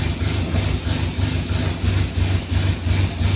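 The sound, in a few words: classic Mini car engine starting and idling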